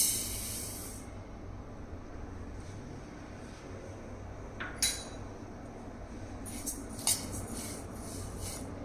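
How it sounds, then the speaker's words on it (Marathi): Flaxseeds dry roasting in a kadai over a low gas flame, a faint steady hiss with a few light scraping and clinking clicks from stirring, no talk. "सर्वप्रथम आपण हे जवस कढाईमध्ये भाजून घेणार आहोत"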